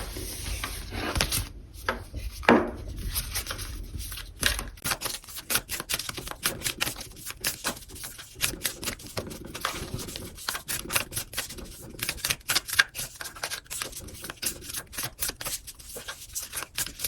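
Oracle cards are shuffled by hand, with rapid riffling and soft slapping clicks that repeat in quick bursts, close and fairly quiet.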